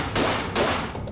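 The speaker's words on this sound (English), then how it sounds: "And then he heard the gunshots." A burst of gunfire, two sharp broadband blasts spaced about half a second apart, loud and close, each with a brief decaying tail.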